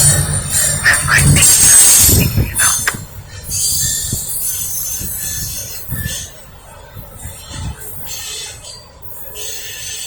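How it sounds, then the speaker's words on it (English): A westbound Norfolk Southern train rolls past near a track merge at Kenny, Lynchburg, Virginia, loud and close at first with wheel squeal and rumbling cars, then fading as the end of the train moves away. "And there goes that train."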